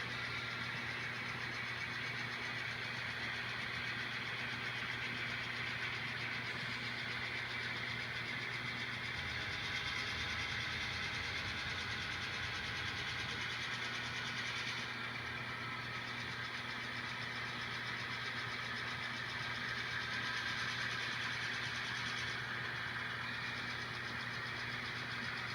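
A train locomotive engine under throttle in a train simulator game gives a steady, low droning rumble that holds for the whole stretch with slight shifts in tone, alone and fairly quiet.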